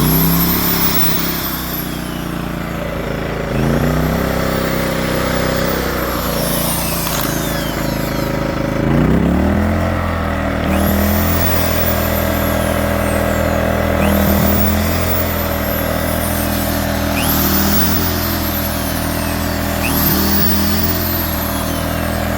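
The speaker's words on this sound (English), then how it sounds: "the engine revs up" A portable generator engine revs up under load while a drill draws power, holding a steady, loud drone with periodic swells and a faint whine, close by with no talk.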